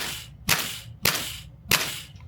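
A SOLGW MK.1 airsoft rifle cycles its action as it fires three times, each a sharp, close snap about half a second apart with a short hiss trailing after, heard alone.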